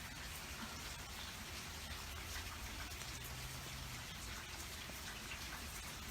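Rain falls steadily, a dense and continuous hiss of drops on surfaces, faint and even throughout with no voices.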